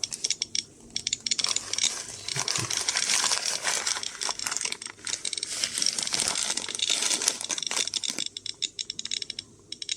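A large plastic bag of potassium-40 concentrate, about a kilogram, crinkles and crunches loudly and close up as it is handled in continuous bursts, with only brief pauses and no talk.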